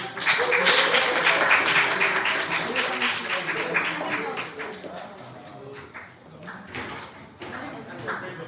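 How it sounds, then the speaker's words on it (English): Audience applause at a school event in Surabaya, a dense wash of clapping that is loud at first and then thins and fades over several seconds, with a few scattered claps near the end. "Round of applause, please."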